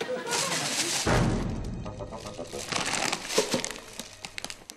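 Plastic bags crinkle and rustle loudly nearby as they are emptied, in bursts of crumpling with a few soft thumps, while people talk over the noise.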